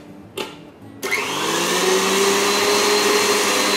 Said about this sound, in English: And I'm going to whisk it just a little bit longer.